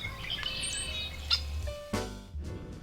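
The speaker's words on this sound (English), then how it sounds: "Robins and meadowlarks." Robins and meadowlarks singing at a wildlife refuge trail, scattered bright chirps and short song phrases over a low rumble of background noise, no talking.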